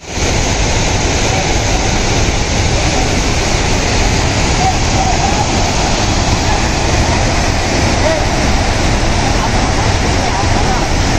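Water flows at Vellamalai tunnel in Valparai, a loud, steady rushing roar that stays constant from start to finish.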